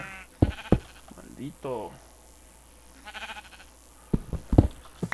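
Sheep bleat repeatedly in Minecraft, a few wavering calls rising among game clicks and thumps while someone talks excitedly over them.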